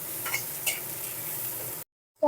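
Chopped onion sizzles in hot oil in a pan while it is stirred, a close steady fry with a couple of soft scrapes, and it cuts off abruptly near the end.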